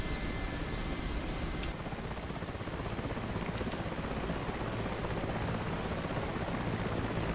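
Mi-8 helicopter in flight in the DCS combat simulator, heard from an external view as a continuous loud rotor and turbine roar, steady with no voices.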